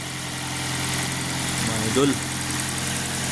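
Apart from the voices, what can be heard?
car engine running at idle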